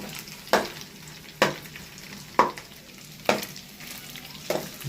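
Loitta dried fish frying in a pan, a soft steady sizzle broken by five evenly spaced scraping stirs, close and quiet with no talk.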